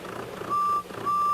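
Two long electronic bus horn beeps sound one after another over a low vehicle rumble, clear and moderately loud.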